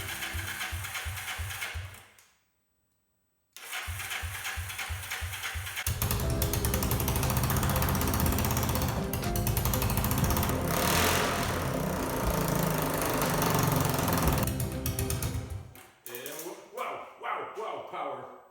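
A Yamaha XT 250 motorcycle engine cranks in short chugging bursts, falls silent, then catches and runs loudly with a harsh rattling idle before cutting out into sputters.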